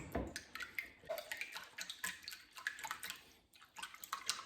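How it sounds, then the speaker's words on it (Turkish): Three eggs whisked by hand in a bowl for a simple omelette, a quick irregular clatter of utensil strokes tapping and sloshing against the bowl, fairly close and light. "Evet, yumurtalarımızı bir çırpıyoruz."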